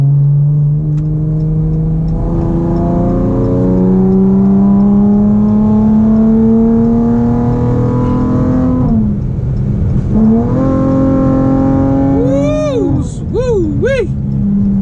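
A Chrysler 300 with a straight-piped exhaust accelerates hard, a loud rising engine drone climbing through the gears with a shift break midway, then sharp revs near the end, with people talking over it.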